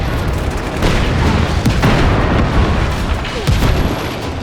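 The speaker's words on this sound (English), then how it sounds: "Then, of course, come the explosions, and they sound incredible." Explosions from the open-world action game Just Cause 3 boom one after another, heavy bass-rich detonations and crackling blasts layered densely and loudly with no talking.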